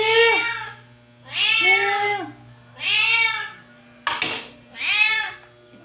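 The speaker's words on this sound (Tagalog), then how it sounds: "Pakakainin ko nga si Pusa mga kakain ba siya nito." A cat being fed meows four times in a clear, evenly spaced series of drawn-out, rising-and-falling calls, close and fairly loud, with a short click between the last two.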